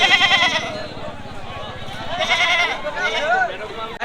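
Several goats bleat in wavering, overlapping cries amid a busy crowd with people talking and bargaining nearby at the Badarganj livestock market before Qurbani.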